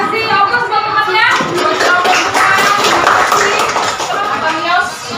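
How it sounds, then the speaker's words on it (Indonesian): A classroom of students claps for a classmate, steady dense applause running the full length with voices mixed in underneath. "Ya, kasih aplaus buat temannya."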